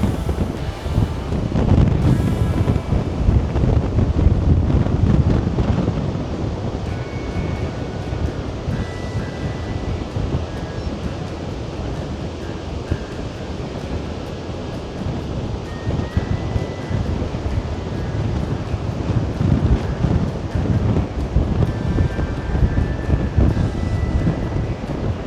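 Strong coastal wind on the Wild Atlantic Way buffets the microphone in a constant heavy rumble, with surf washing underneath; the gusts rise and fall but never let up, and no one speaks.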